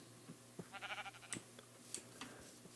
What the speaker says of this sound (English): I suppose there are 3 sheep around here.